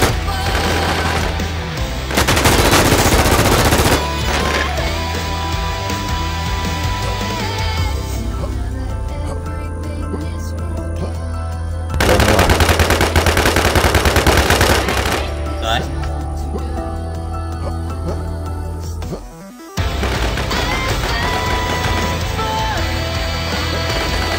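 A shooting video game fills the space with loud, near-continuous automatic gunfire and bursts of shots over steady game music, with short quieter gaps between, and players talk now and then.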